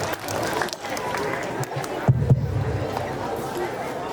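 Audience at a school annual function claps in a broad, sustained round of applause, with a voice over the crowd and a couple of louder thumps midway.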